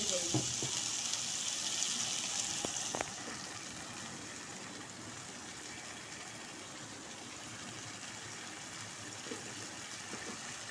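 Taro root (arvi) gravy sizzles steadily in a pan after water is added, a close, continuous frying hiss that eases slightly after a few seconds, with a couple of faint clinks.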